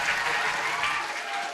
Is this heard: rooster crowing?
no